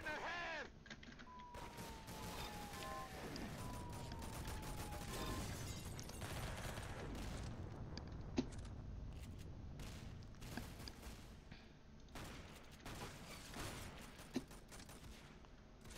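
Mag 7 shotgun blasts in the Roblox game Arsenal, a run of sharp shots and mechanical clacks over a busy game mix, with a voice talking over it.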